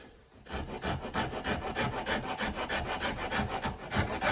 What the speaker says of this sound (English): So I just usually put the rasp across like this.